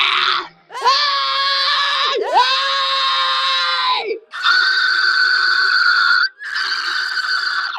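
A singer demonstrates several vocal scream types, five loud, strained bursts in a row, some with a rising, siren-like pitch, separated by short gaps with no other talk.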